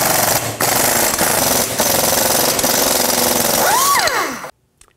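An impact wrench with a 13 mm socket removes nuts from the front catalytic converter of a 2007-2016 Chevy Traverse, a loud sustained rattling hammer with brief pauses that rises in pitch as it spins free, then stops.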